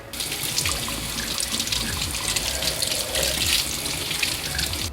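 Tap water runs steadily into a sink while a Silveronyx airtight double-lid canister is washed, a continuous close splashing hiss with slight shifts as the container moves under the stream.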